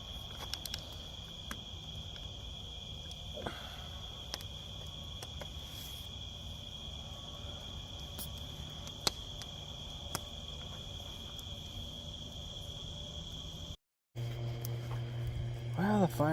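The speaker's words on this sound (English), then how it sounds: "now I'm gonna just sit around the fire and enjoy the rest of the evening and listen to the sounds of the bugs." Crickets and other insects chirp in a steady, continuous high trill on an evening at a campsite in Wakonda State Park beside a campfire, with brief scattered knocks and a short gap near the end.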